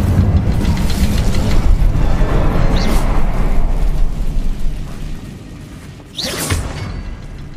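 A roaring fire-spell blast from Hogwarts Legacy fills the scene, loud rushing bursts with whooshing swells, fading briefly near the end before another burst flares up.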